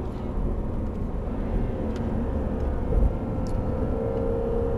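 A Jaguar F-Type engine accelerates hard on the Estoril circuit, a steady low in-cabin drone with a rising tone, a few sharp ticks, and a brief surge near the middle.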